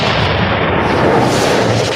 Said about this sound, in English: Fire the cannons, right?